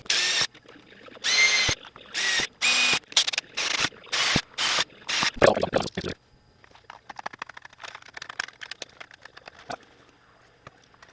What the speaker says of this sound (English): just drill new holes in the shroud because that just seems to be the easiest thing to do